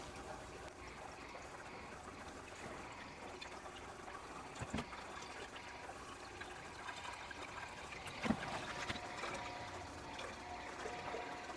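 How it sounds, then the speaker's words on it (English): Faint, steady trickling of water running through a Frigidaire ULTRAWF refrigerator water filter into a pitcher, a soft continuous fill with a couple of small knocks along the way. "we'll just let it fill up the pitcher"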